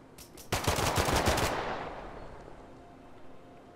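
Automatic gunfire in The Last Haven video game: a quick rattling burst of shots, loud and close, lasting about a second before fading into a long rumbling decay.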